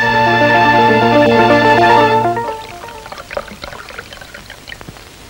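Cold drinking water pours in a steady trickling stream for about three seconds, following a sustained tonal chord at the start, with no talk over it.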